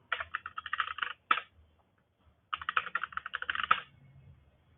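Rapid tapping on a computer keyboard while entering a command, two quick bursts of keystrokes separated by a short pause, close and clear with no talking.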